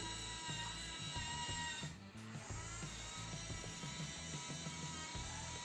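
A Zemismart M027 connected curtain motor runs steadily as it draws curtains, a faint continuous mechanical whir with a ratcheting texture and a brief dip midway.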